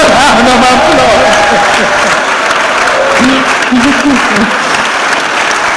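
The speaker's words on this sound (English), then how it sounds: "Can we all give Mr. Ibuji a round of applause?" Audience at an employment summit in Lagos breaks into sustained, loud applause that fills the room, dense clapping running steadily throughout with some voices mixed in.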